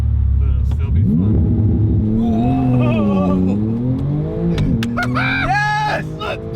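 A Porsche 991.2 Turbo S with a Fabspeed exhaust launches on a cold closed course, its loud engine rising through rapid gear changes with a deep rumble and rising pitch, while people talk and shout excitedly over it.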